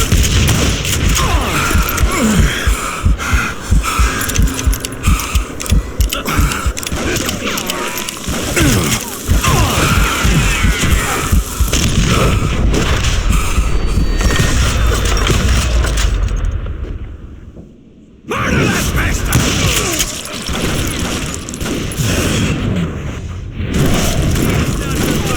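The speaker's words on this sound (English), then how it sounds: "Kid Curry opened up on me with a goddamn Gatling gun" Gatling gun gunfire in the Western shooter game Call of Juarez Gunslinger: dense, sustained rapid bursts and booming impacts fill most of the stretch, with a brief near-silent gap before the loud firing resumes.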